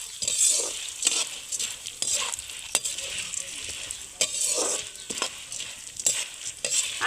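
Roasted chana dal frying in oil over a wood-fired stove while chivda is being made, giving a steady close sizzle broken by repeated scraping stirs and light utensil clinks, with no talking.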